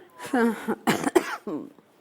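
A voice talks briefly, then a couple of harsh, close coughs break in, followed by a little more speech.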